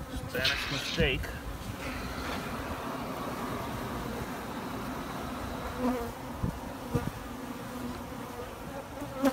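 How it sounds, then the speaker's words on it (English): Bees swarm around a Spanish tile roof, giving a dense, continuous buzzing close by with a few louder passes, and someone speaks briefly over the hum. "Bees love Spanish tile."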